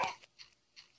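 Wolf in Minecraft gives a short sharp bark followed by two fainter, softer yelps at regular spacing, heard alone at close range.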